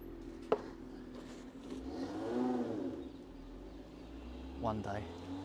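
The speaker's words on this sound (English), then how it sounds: "There's lots of nice cars that go by here." Cars driving past on a nearby road, with two distinct passes rising and fading, one in the middle and a shorter one near the end, over a low background hum.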